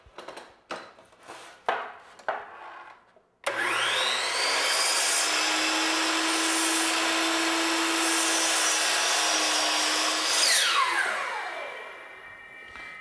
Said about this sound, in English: I'm cutting the pieces for a mitered bullnose corner